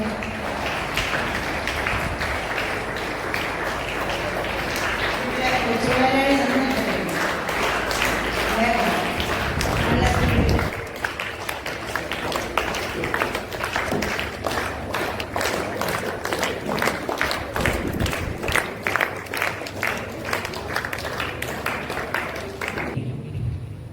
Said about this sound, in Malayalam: നമുക്ക് ഇപ്പൊ തന്നെ കൈയടിച്ച് നമുക്ക് സ്വീകരിക്കാം